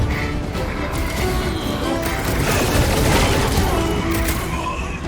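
A large explosion in the Guardians of the Galaxy video game on Windows 11 roars as a dense, loud, continuous blast with crackling debris that swells and holds for several seconds.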